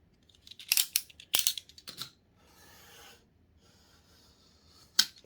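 Scissors cut paper for a journal pocket: a few crisp, close snips in short clusters, then a soft rasp and one last sharp cut after a pause.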